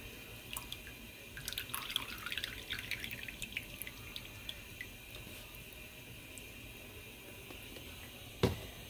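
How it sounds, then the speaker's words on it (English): Heavy cream poured from a container into Cajun chicken pasta sauce gives a faint, close liquid trickle and dripping at a low level, ending with a small knock. "So I will be adding the entire container of heavy cream."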